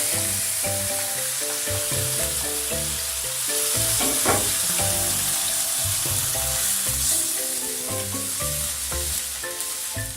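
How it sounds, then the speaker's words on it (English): Meat browning in ghee in a home kitchen pan, a steady close sizzle with occasional stirring, heard under prominent background music. "I'm going to add my meat. Just going to brown it for a couple of minutes"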